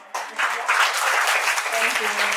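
Students at an English and character camp break into applause after a short lead-in, a bright, even patter of clapping hands that carries on through the rest of the moment.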